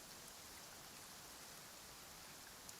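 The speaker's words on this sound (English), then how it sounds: "Rain." Steady, soft rain patters in Genshin Impact, a faint even hiss of drops with no voices, and a small brief tap right at the end.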